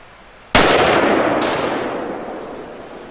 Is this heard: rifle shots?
yes